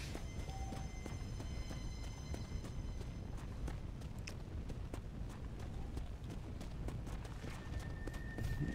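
Horse hooves clip-clop steadily through a cowboy video game set in the Midwest, a continuous walking rhythm over a busy ambient game soundscape, moderately close, with no talking.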